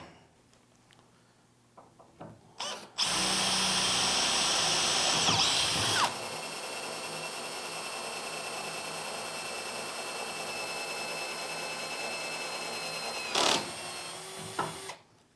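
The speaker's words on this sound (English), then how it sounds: "We're going to drill a small hole in some metal." A cordless drill bores a small hole in oiled metal, a loud steady high-pitched motor whine that starts abruptly, shifts tone partway through and runs on before a brief surge and stop, with handling clicks around it.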